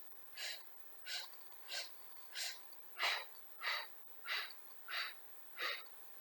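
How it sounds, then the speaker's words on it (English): Nine evenly spaced, sharp breaths through the nose or mouth during a Pilates curl-up exercise, each a short airy puff in a steady staccato rhythm, close and clear against a quiet room. "let's get ready to do our 5 inhales and 5 exhales, staccatically breathing."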